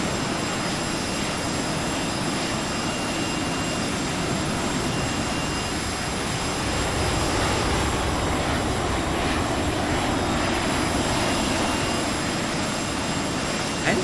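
Cessna Citation Mustang jet engines in Microsoft Flight Simulator, a steady broadband roar with a faint high whine that holds at an even level throughout, swelling slightly midway, with no voices.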